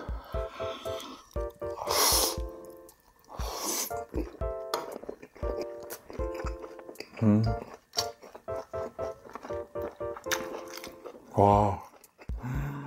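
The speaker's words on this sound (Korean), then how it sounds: "자, 이번엔 차돌박이를 떡볶이에다 싸서 한번 먹어볼게요." Someone eats tteokbokki rice cakes wrapped in thin beef brisket, with close, wet chewing and soft biting sounds between bursts of a talking voice and a short exclamation.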